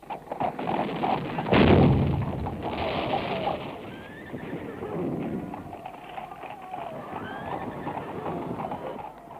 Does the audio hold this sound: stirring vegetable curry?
no